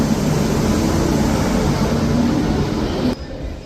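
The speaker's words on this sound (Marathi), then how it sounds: "ट्रेन आता निघालेली आहे ठाण्यावरनं" Loud, steady rumble of the Tejas Express rolling away from Thane station, with a low droning hum that drops off abruptly near the end.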